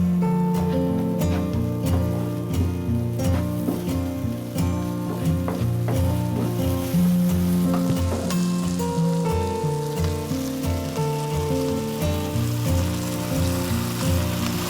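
Onion and garlic sizzle in melted margarine in a pan, a steady near hiss with light stirring clatter, under background music with no one talking.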